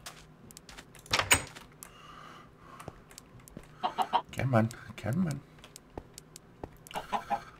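Minecraft chickens cluck in short bursts amid clicks and thumps, with someone speaking briefly between the calls.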